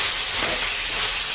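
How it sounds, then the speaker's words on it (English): Loud, steady sizzling and hissing fills the whole moment, a dense crackle of chicken drumsticks frying hard in a pan on maximum heat. "So you fry for about 5 minutes until it's fairly dry"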